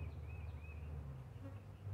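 A steady, low drone of many Carniolan honey bees buzzing close by as they land on open hive frames at an apiary, continuous and humming with no voices over it.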